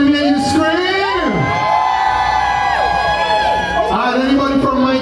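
Reggae concert crowd at a Caribbean show cheering and screaming, a loud sustained roar of many voices with rising and falling shrieks and whoops throughout.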